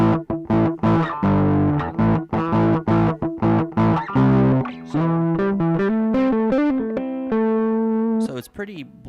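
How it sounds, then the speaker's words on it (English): Electric guitar played through a Tube Screamer-style overdrive pedal, warm distorted notes and chords in a bluesy run, ending on sustained bends. "it's actually modeled after sort of an iconic pedal called a tube screamer"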